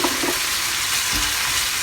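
Soy sauce hits sautéed onions in a hot pan, giving a brief, close sizzle and frying hiss with a soft stir, no voices.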